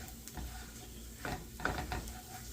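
A spoon scrapes and stirs flour into hot oil in a pan to make a roux, with soft sizzling and a few quiet metallic scrapes, close and low in volume.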